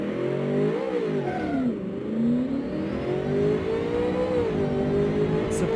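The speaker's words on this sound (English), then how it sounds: "Rear-wheel drive twin turbo V8." A supercharged twin turbo V8 in a rear-wheel-drive car, running on petrol alone in the Automation game, revs up and down continuously. Its pitch rises and falls in smooth waves, loud and steady with no talk.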